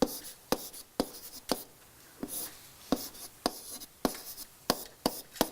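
A pen writes out a vector during a symmetric-matrices math lecture, making crisp, scratchy strokes in short rhythmic bursts with brief pauses between them. It sounds close and moderately loud.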